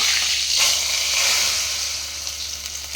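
Hot oil tempered with panch phoron and a bay leaf sizzles as it meets vegetarian khichuri, a close, steady hiss lasting a few seconds and easing slightly toward the end.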